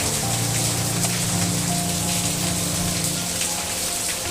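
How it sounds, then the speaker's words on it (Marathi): Heavy monsoon rain pours down steadily, heard from a home balcony as a dense, even hiss of drops drumming on surfaces throughout, with a faint hum underneath and no voices. "हा बघा कसला पडतोय पाऊस"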